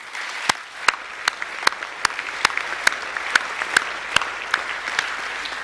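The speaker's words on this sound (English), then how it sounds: "I think that deserves another round of applause." An audience applauds at a school's annual academic awards presentation evening, with steady clapping and sharp individual claps ringing out clearly throughout, no voices over it.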